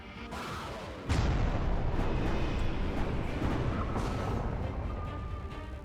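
A target blown apart in the space strategy game Halcyon 6: a heavy explosion bursts in after a quiet second and leaves a loud, rumbling roar that holds steady and slowly fades, with no talking.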